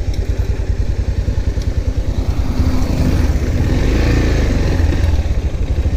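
A new motorcycle's engine runs smoothly and fairly quietly, its close, loud, steady pulsing throb swelling slightly as it revs, with faint clatter and no talking.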